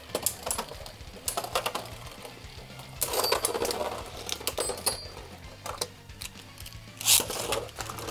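Stock QuadDrive Beyblade tops, including Salvage Valtryek, spinning and clashing in a stadium, giving rapid metallic rattling and scraping with sharp impact bursts and clacks, close and fairly loud, ending in a bright collision.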